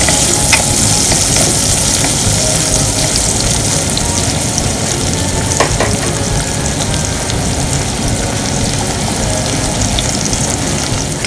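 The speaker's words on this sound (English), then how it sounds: "for the gravy I put some oil in the pan and I add my onions" Onions frying in oil in a pan for gravy give a loud, steady, close sizzle that hisses without a break, with no voices over it.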